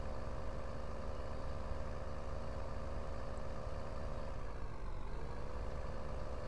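A combine harvester engine in the Thornton Farm game runs at a steady drone, close and continuous, with a slight dip and rise in pitch midway as the machine turns.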